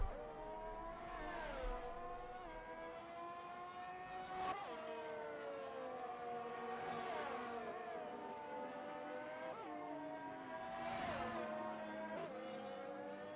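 Racing car engines in a sim racing video game at the Saudi Arabia GP, steady high revving with repeated upshifts and downshifts as cars run the lap, moderately loud and continuous without talk.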